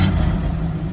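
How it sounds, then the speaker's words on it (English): A 1969 Chevy C10 pickup with dual exhaust fires up and settles into a steady, loud, low engine rumble close by, with no talk over it. "And then the startup."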